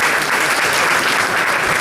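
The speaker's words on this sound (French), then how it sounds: "Vous pouvez applaudir" A lecture-hall audience at Sciences Po Lille applauds Gérald Darmanin, producing dense, loud, sustained clapping that fills the whole moment without letup.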